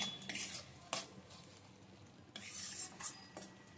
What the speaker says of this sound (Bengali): এবার মশলাটাকে খুব ভালো করে কষিয়ে নিচ্ছি